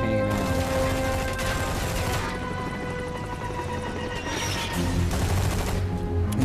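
Dense, continuous gunfire from the Metal Gear Survive video game, rapid automatic bursts layered into a loud, sustained barrage with mechanical clatter, heard alone without talk.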